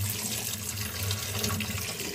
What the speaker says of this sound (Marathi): त्याला धुवून घेऊ अगोदर